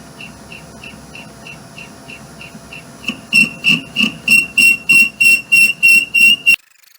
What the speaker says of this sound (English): Probably bent it too, if you can hear the chirping.